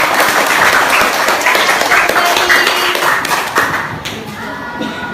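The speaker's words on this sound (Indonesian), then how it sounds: "Oke, tepuk tangan semuanya." A classroom of pupils clapping their hands together after a song, a loud, dense and slightly ragged patter that thins out toward the end.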